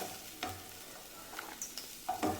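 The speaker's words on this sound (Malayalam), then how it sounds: "മുതിരയും പൻപയറും കൂടെ ഞാൻ നെയ്ക്കകത്ത് വറുത്തതാണ് അത് ഞാൻ ഇനി കോരിയെടുക്കുകയാണ്" Horse gram and green gram fried in ghee being scooped out of a kadai, giving a soft background sizzle broken by a few light scraping clicks and taps.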